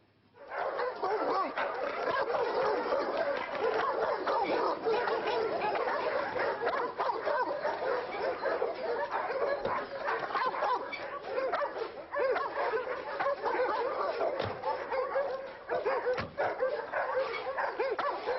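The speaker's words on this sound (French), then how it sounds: "Ces charmants toutous ne m'inspirent aucune confiance." Several dogs bark, yip and whimper nonstop in a dense, loud chorus close by, with the barks overlapping throughout.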